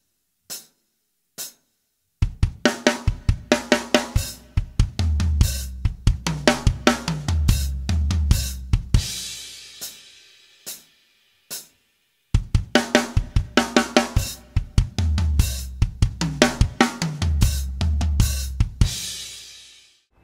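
Drum kit fill, played twice: a few isolated hits, then a dense run of fast snare, tom and kick strokes building to crashing cymbals, a short pause, then the same fill repeated, close and loud.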